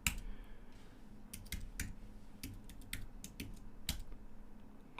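Password being typed on a computer keyboard: a quick irregular run of crisp, close key clicks, some taps louder than others, with short pauses between bursts and no talking.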